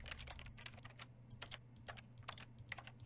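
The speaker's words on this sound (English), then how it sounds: "When I press E, it sounds like typing on a keyboard" Keyboard typing triggered by pressing E in The Stanley Parable, quick irregular bursts of crisp key clicks in short clusters over a low steady hum, close and clear with no talking.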